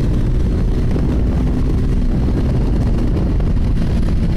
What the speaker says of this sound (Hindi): 120 चू जा रही है गाड़ी फोर्थ गियर में